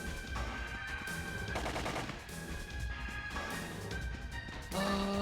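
Gatling gun boss weapon firing in the game PSO (Phantasy Star Online, Ephinea server): steady rapid mechanical firing in repeated bursts, fairly quiet, with tonal game effects and music layered over it.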